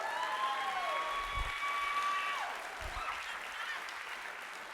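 A seated audience at a nonprofit fast pitch evening event applauds steadily for the whole stretch, with the clapping easing slightly toward the end. A few tonal whistles ring through the crowd noise early on.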